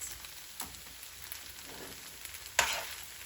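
Garlic sizzles softly in a pan over ramen noodles, a steady faint frying hiss with a few louder stirring clatters, no voices.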